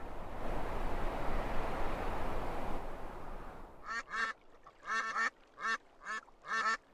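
Wild ducks quack in a pond ambience effect from The Sims 4, a steady wash of water-like noise giving way to a string of clear, nasal quacks in irregular bursts.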